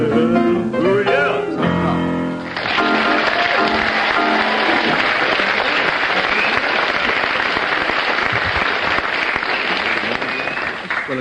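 Sustained applause from a radio comedy panel show's studio audience, a dense, loud clapping roar that lasts around nine seconds after a brief stretch of sung tune at the start.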